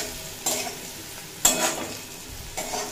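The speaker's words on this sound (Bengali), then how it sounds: "দেখুন মিডিয়াম ফ্লেম করে কুমড়ো খুব ভালোভাবে ভেজে নিয়েছি।" Pumpkin pieces fry in oil over a medium flame. A soft, steady sizzle carries through, broken by three sharper scrapes of a spoon stirring in the pan.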